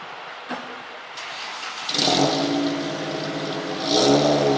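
A 2001 Ford Focus ZX3 fitted with a Cherry Bomb glasspack exhaust cranks with a few faint clicks, then fires up into a loud, raspy idle that swells again in a short rev.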